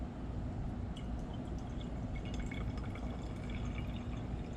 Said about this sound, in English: So let me pour it into this flask,